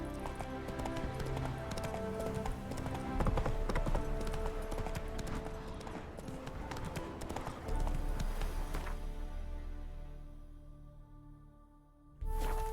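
A horse gallops in The Witcher 3, its rapid clip-clopping hoofbeats running steadily under faint game ambience before the pace slows near the end.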